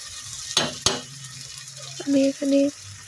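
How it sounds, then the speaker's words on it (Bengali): Rice frying with packet spice masala for chicken biryani, two sharp spatula knocks on the pan over a low sizzle, then a couple of short tonal squeaks close by. "আমি আরও 2-3 মিনিটের মতো চালগুলো মশলার সাথে ভেজে নেব।"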